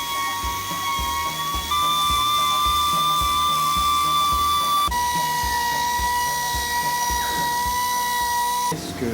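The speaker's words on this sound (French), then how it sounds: "c'est en fait un adouci avec ma ponceuse à eau" An electric wet sander hums as it smooths a marble stone fireplace in a stonemason's workshop, with a steady whining tone and rhythmic pulsing strokes throughout, heard up close with no talk.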